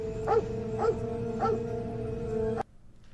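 Dog barking in the science-fiction film Alien 3: three evenly spaced barks over a steady background hum, then the sound cuts off abruptly.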